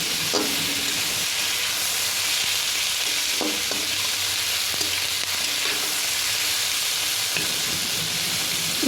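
Vegetables sizzle steadily in a hot frying pan after salt goes in, while a utensil stirs them with occasional soft scrapes and knocks, close and continuous, with no voices.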